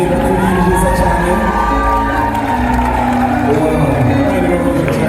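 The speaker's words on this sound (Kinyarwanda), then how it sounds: "Ayo ni amashyi y'umunezero wo kuvuga yuko ababyeyi bakuriye byiza cyane." A celebrating crowd claps and cheers with joy, dense sustained applause mixed with whoops and shouts, loud and continuous throughout.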